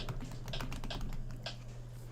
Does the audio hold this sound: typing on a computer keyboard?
yes